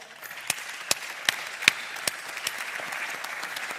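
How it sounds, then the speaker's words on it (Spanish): Brief audience applause at a sports psychology congress panel in Murcia, a moderate crowd of clapping hands with a few sharper individual claps standing out, steady and fairly close, fading slightly toward the end. "fuerte ese aplauso"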